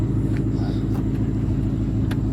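A Lamborghini Huracan sits at idle after starting, its engine a loud, steady low rumble throughout with a few brief faint clicks above it, no voices.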